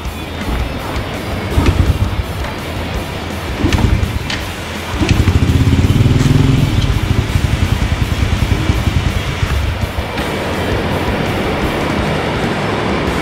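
A vintage motorcycle engine runs right after being started, still cold, with a loud, steady, rough idle that rises and falls in loudness, recorded up close with no talk.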